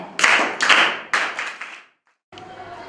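A classroom of students bursts into clapping for classmates after an answer, bursts of hand claps near and fairly loud, fading into a pause, then quieter room noise with a faint voice.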